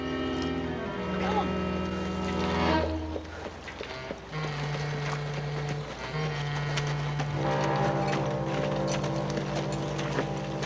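A cavalry horse's hooves clip-clop steadily throughout a scene from a 1960 Western, mixed under background music and a steady low drone, with people talking in places.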